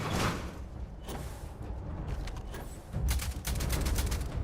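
Rifle fire from an old Earth rifle in a Bethesda space video game: a rough series of sharp shots, strongest at the start and again near the end, over a busy low rumble of game noise.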